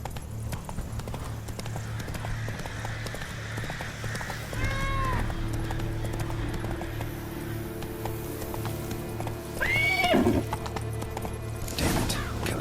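Hooves clip-clop rapidly as a horse gallops in The Witcher 3: Blood and Wine, with a couple of whinnies rising above the steady hoofbeats and low ambient music.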